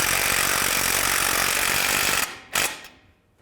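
A power tool runs loud and continuous while tightening a bolt on a car's front lower control arm, then cuts off followed by a short second burst and fade.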